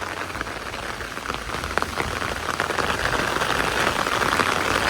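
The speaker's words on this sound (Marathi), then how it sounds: "सकाळपासूनच धोधो पाऊस आहे यार" Heavy rain pours steadily outdoors by farm fields, a dense continuous hiss of drops on surfaces that holds loud and even throughout, with no voices.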